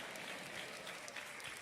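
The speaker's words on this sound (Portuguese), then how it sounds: "Não aplauda não, senão vai parecer que eu canto." Steady, close applause fills a church service, dense clapping from the congregation continuing without a break for a couple of seconds.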